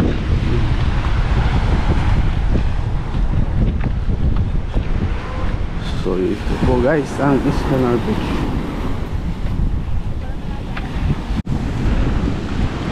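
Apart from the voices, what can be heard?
wind and rough sea waves at Es Canar beach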